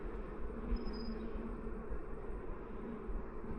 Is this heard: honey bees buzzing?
yes